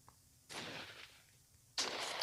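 Two sharp, loud sniper shots from the Sniper Warrior video game, each a broadband blast with a lingering tail, roughly a second apart, with no talk over them.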